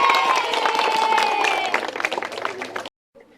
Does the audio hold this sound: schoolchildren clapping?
yes